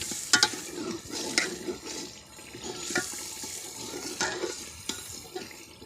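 Potato pieces fry in a pan and are stirred with a spoon for rice with potatoes and peas, giving soft sizzling with repeated scraping and clinking strokes, close and moderately loud, with no talking.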